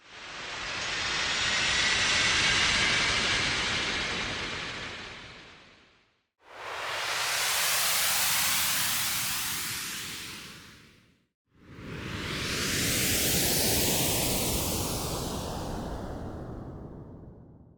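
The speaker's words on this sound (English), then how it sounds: "Here's how some of the white noise source turned out." Three processed white-noise swells for Kingdom Hearts–style magic sounds, each a loud airy hiss that rises and fades with a sweeping filter, separated by brief gaps, no voices.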